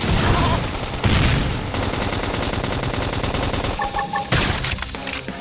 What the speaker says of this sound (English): Topple them with some gunfire!